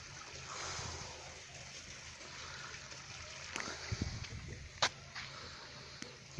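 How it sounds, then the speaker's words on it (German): A small stream flows through a village in the Harz near Neustadt, a faint, steady watery hiss with a few brief clicks and knocks over it. "durch den Ort fließt hier auch so ein Bach."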